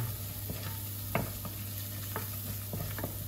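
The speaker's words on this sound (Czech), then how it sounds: "Přidám do toho česnek. Zase lehonce zarestuju." Garlic lightly sautéing in a pan with a little flour, a soft continuous sizzle with a few scattered stirring scrapes, quiet and close over a steady low hum, no speech.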